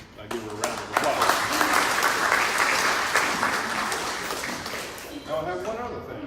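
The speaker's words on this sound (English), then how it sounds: "I give her a round of applause" A crowd applauds a 100th-birthday honoree at a Denham Springs gathering, with steady clapping sustained for several seconds and a voice speaking over it toward the end.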